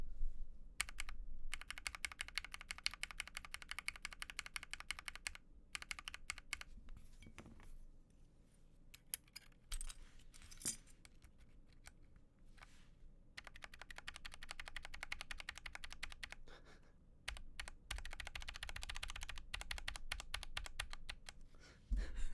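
Keycaps are pried off a Ramaworks Zenith mechanical keyboard in a quiet room, giving a scattered run of light plastic clicks and ticks with short pauses between them.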